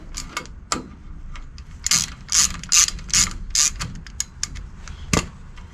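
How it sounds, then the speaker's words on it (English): Ratchet undoing a 17mm brake pad retainer bolt on a MAN truck: close, crisp clicking pawl strokes in short repeated bursts with a few louder knocks, no talking. "You just undo this 17mm bolt, and then take the retainer bar out"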